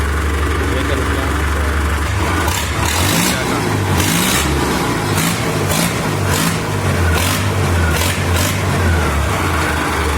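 An Arjun 605 tractor engine starts and revs, a loud diesel rumble that swells in repeated bursts of revving over a steady idle, with a voice speaking over it.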